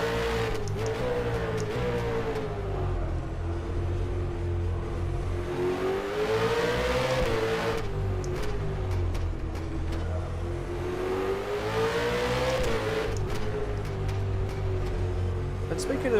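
Simulated V8 Supercar engine in rFactor 2 racing game revving and rising through gears, a steady loud drone with pitch swells, under continuous commentary talk.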